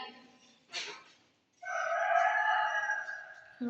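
A desi rooster crows on a small farmyard, first a short loud burst and then a long, strained, steady call held for about two seconds, close by.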